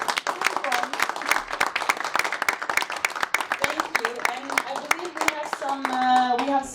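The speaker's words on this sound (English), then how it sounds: "I want to have a huge applause for everyone" Audience clapping at a women-in-tech panel event, a close, somewhat sparse and irregular patter of hands rather than a full roar, with voices and a child's chatter mixed in toward the end.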